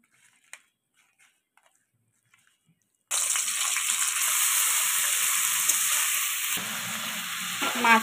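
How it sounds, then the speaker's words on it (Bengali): Prawns hit hot mustard oil in a wok after a few quiet clicks, bursting into a loud, steady sizzle that crackles on and shifts slightly as they fry. "সর্ষের তেল দিয়ে দিলাম কড়াইতে, চিংড়ি মাছগুলো ভেজে নেব।"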